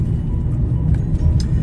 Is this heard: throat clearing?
no